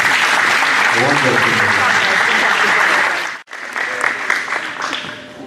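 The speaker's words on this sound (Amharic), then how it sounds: "በድጋሜ ለሮም 13 ሞቅ ያለ ጭብጨባ" Warm applause from a graduation crowd fills the hall loudly and steadily for about three seconds, breaks off abruptly, then resumes more raggedly and with scattered claps.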